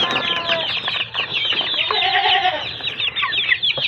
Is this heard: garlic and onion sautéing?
no